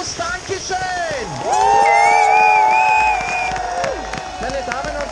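A large audience applauds and cheers for 120 ski instructors at a show in Saalbach Hinterglemm, with sustained clapping and crowd noise swelling in the middle while voices and whoops rise above it.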